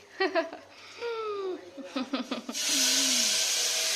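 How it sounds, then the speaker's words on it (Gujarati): Vegetables being tempered in a hot pan at home: voices chatter first, then a sudden loud, steady sizzle bursts in and holds to the end. "મમ્મી શાક વઘારે છે"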